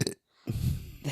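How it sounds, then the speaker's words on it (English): A single deep, rumbling burp rolls out after a short silence, close and fairly loud, with a small vocal sound just before it. "It was very much like a haunted house burp."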